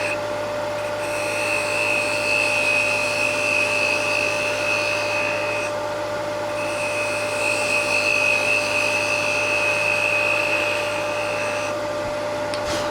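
A wood lathe spins as a Nano Revolution hollowing and detailing tool makes a shear cut, producing a steady, loud motor whine with a high tonal hum that briefly dips near the middle before resuming.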